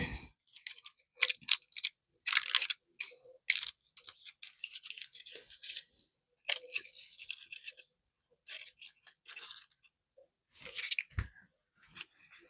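A series of short, crisp snips and rustles as scissors cut off thin hot glue tails, close and quiet, in irregular bursts separated by brief silences.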